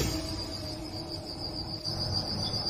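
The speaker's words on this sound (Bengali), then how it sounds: "শুধু ঝিঁঝি পোকার একটানা ডাক" Crickets chirp continuously at night in a steady, unbroken high trill, moderately loud and alone with no voices over it.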